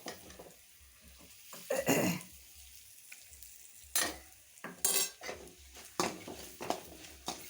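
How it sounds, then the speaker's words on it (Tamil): Curry leaves fry and crackle in a pan as they are stirred for South Indian pepper rice, with intermittent sizzling bursts and scraping strokes against a quiet background. "நல்லா கிளறி விட்டுட்டு பொரிஞ்சிருச்சு"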